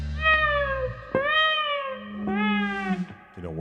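Several cat meows in succession, clear and fairly close, each a drawn-out tonal cry with a separate short call at the end; no talking.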